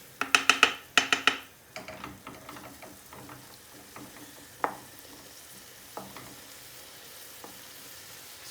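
Chickpea masala cooking in oil, with a burst of sharp spoon clinks and scrapes against the pan at first, then scattered stirring knocks over a soft steady sizzle.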